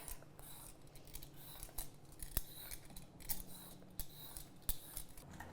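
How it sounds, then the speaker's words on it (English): Small carrots being peeled in a home kitchen, a run of brisk scraping strokes with sharp ticks, close and fairly quiet, with no talking. "I'm just going to peel a couple of small carrots here."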